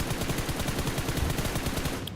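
Rapid automatic gunfire in the battle royale video game PUBG Mobile, a steady rhythm of close, loud shots over about two seconds. A brief bright ping near the end may mark the headshot.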